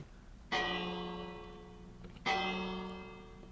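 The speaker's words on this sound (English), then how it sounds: "I guess I put a bell up here." Two loud, resonant strikes of a tower bell in a video game world, each ringing out with a long, slowly fading metallic hum, spaced under two seconds apart with no voices.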